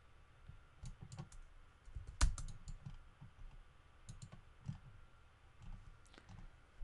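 Clicky computer keyboard keys typed in short irregular bursts, one sharp louder keystroke standing out, close and fairly quiet while drafting in Rhino 3D software.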